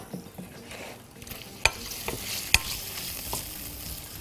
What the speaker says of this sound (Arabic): نقلب القوانص دي كده.